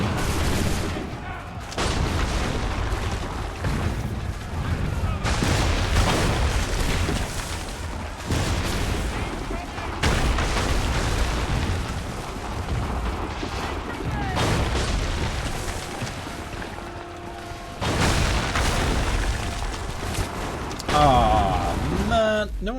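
Repeated gunfire bursts and booms in Assassin's Creed III, several sharp volleys spread over about twenty seconds under game ambience and a talking voice.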